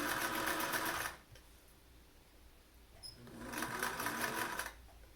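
A sewing machine stitches elastic onto a homemade fabric face mask in two loud, steady whirring bursts, each about a second long, separated by a quiet pause.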